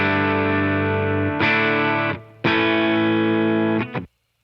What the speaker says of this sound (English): I went ahead and recorded a little bit of guitar, and it sounds like this bone dry